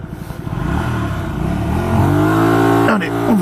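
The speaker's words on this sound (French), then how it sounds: "Alors le moteur a l'air de tourner, mais je trouve qu'il manque de pêche." A Hyosung Aquila 125 motorcycle engine pulls away and accelerates, its pitch climbing steadily through the rev range, loud and close, with a brief gear-change dip near the end.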